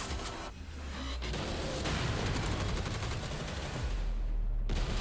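Bombs falling and gunfire in the PUBG New State battle royale trailer, a dense, continuous barrage of shots and low booms that stays loud throughout, with no talk over it.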